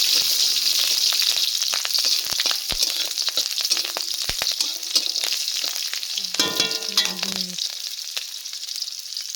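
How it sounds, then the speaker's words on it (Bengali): Steady hissing sizzle of garlic and green chillies frying in hot oil, with occasional clinks and scraping of a utensil stirring the pan. "এরপর কিছু কাঁচা লঙ্কাও দিয়ে দিল। এবার এগুলোকে ভাজতে থাকলো।"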